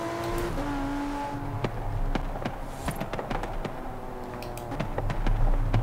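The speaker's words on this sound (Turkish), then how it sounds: "Çok güzel egzoz patlatıyor ha." A modified Range Rover Velar in the Forza Horizon 4 racing game drives with engine hum and sharp exhaust pops and crackles scattered throughout, fairly quiet, with gear-shift tones.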